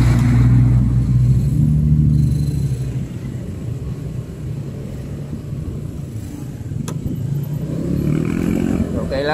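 Road traffic and engine rumble while riding a Rusi Flex scooter on a busy road approaching Sibulan near Dumaguete, a steady low drone that stays loud throughout, with a voice talking over it.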